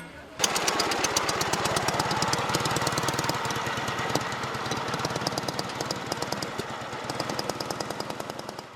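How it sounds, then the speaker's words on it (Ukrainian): A motorcycle adapted for wheelchair users runs steadily outdoors, its engine giving a continuous fast, rhythmic chugging at moderate loudness throughout, with no talking over it. "Учасники мали можливість покататись на цьому мотоциклі."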